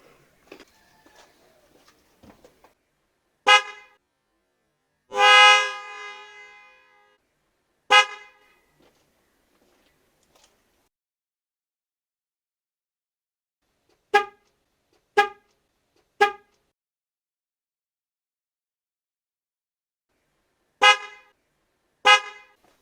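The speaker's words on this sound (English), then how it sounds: "I'm going to honk it now, and it is very loud" Loud, brassy custom triple car horn on a 2013-2016 Mazda CX-5, a layered multi-tone sound, one longer honk and several short toots spread out, with quiet gaps between them.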